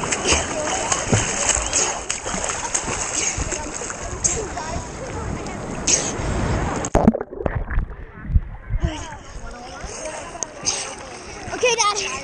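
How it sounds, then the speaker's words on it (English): Ocean surf crashes and splashes close by during body surfing, a loud churning rush that drops out briefly before the water noise returns, with voices around. "There's a big wave."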